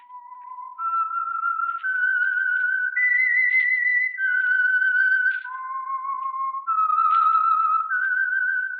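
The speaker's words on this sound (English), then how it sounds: "That whistle is your signal." A clear, solitary whistled melody, the theme of the old-time radio show The Whistler, with sustained notes stepping up and down, played slowly and cleanly with nothing else behind it.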